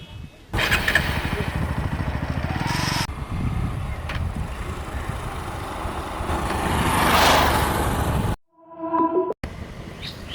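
A motorcycle engine drones loudly at close range, rising and falling as it revs, then cuts off abruptly near the end.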